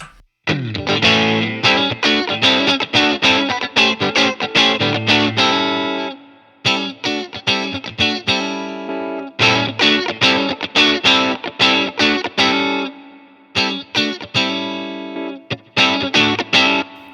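Electric guitar through a Wampler Hot Wired dual overdrive pedal and Line 6 POD Go plays gritty, distorted chords and riffs, loud and continuous with brief pauses between phrases.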